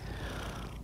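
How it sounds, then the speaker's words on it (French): A domestic cat purrs close up in a short, steady low rumble with no speech over it. "Là, le ronronnement de votre chat"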